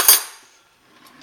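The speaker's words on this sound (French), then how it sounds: "Les couverts, ça c'est des bons couverts, ça c'est du solide ça." Sturdy kitchen cutlery clinks once in a short bright metallic clatter close by, then fades into near silence.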